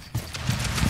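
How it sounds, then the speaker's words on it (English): Footsteps in a Rainbow Six Siege match on the Bank map, a few quick thudding steps close by, short and fairly loud. "why am I hearing two footsteps?"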